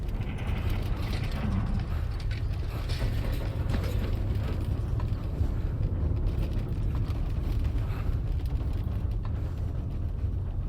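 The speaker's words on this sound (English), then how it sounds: "That was a gatequake just now." A gatequake in the video game Death Stranding 2: a sustained low rumble layered with creaking, ratcheting and grinding mechanical noises, loud and continuous without talk.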